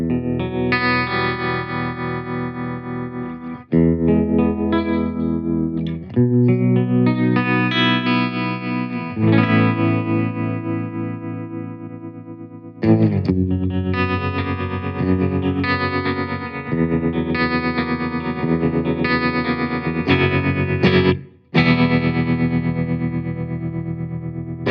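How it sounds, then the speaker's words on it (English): Electric guitar through a Fender Champion 100XL amplifier set to slow tremolo, playing loud sustained chords and riffs in several phrases with brief gaps between them. "we have a couple of tremolo settings, slow and fast"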